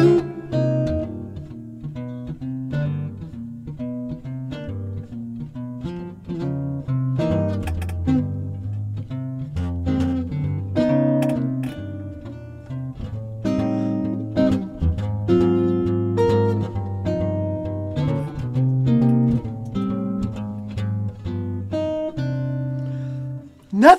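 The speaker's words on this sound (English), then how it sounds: "we're going to go back to a 12-bar blues in a minor key." A small jazz ensemble plays a 12-bar minor blues with walking bass and piano chords, steady and moderately loud throughout.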